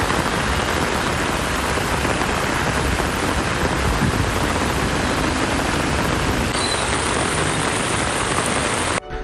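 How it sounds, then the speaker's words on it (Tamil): Heavy rain pours steadily and loudly in Tiruvannamalai, Tamil Nadu, forming a dense, unbroken hiss of water hitting surfaces that stays even throughout. "மழை வெளுத்து வாங்கியது"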